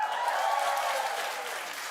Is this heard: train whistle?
no